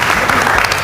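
A small group at a fashion show pre-production meeting claps and cheers, a brief, close burst of applause with voices mixed in.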